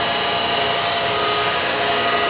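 An Edwards E2M80 rotary vane vacuum pump, bubbling inside and pulling poor vacuum, runs with a steady, loud mechanical whirring hum with a hissy, airy texture, continuous and close, unchanging throughout.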